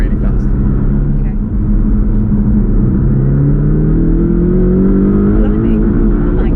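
A Porsche Cayman 718 GTS engine accelerates hard, its rising drone loud and steady inside the cabin as the pitch climbs smoothly through the gear.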